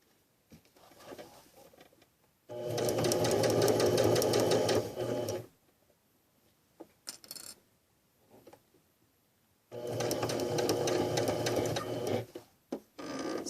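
A sewing machine stitches fold-over elastic onto a swim diaper in two long bursts of rapid mechanical whirring, separated by quiet handling clicks.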